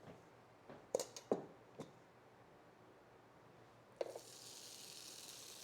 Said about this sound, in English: Oh, you guys hear that sizzle?